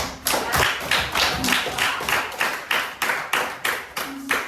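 Audience applause at a group presentation session, a steady run of close, rhythmic hand claps from a small crowd lasting several seconds.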